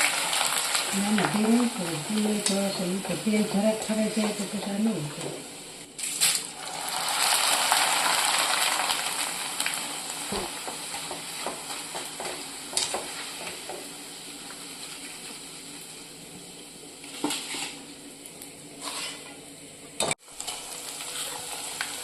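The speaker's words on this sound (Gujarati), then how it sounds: "આપણે પૌવા તરાઈને તૈયાર છે ને આલુ સ્ટીક તરવાની બાકી છે તે તરાઈ લઈએ." Poha and potato sticks deep-frying in oil make a loud, steady crackling sizzle with occasional light clinks, preceded by a brief voice at the start.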